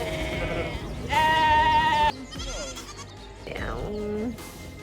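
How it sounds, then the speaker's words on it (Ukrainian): Sheep flock bleats on a pasture near a castle on the French coast at morning. Several loud, overlapping, wavering bleats come close by, one after another, over a low wind-like background. "Зранку тут місцеві фермери випускають великі отари овець на пасовище"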